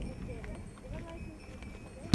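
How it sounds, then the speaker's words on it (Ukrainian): Horse hooves clip-clop in a loose rhythm as children take horse rides at a rehabilitation centre, the hoofbeats sitting beneath nearby talk. "А ще улюблене заняття малюків прогулянки на конях."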